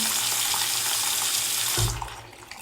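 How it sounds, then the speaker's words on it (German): Hot tap water runs steadily into a bathroom washbasin to rinse the drain after cleaning, a broad continuous splashing that cuts off near the end, leaving a faint trickle. "Und dann einfach mit heißem Wasser ein bisschen nachspülen"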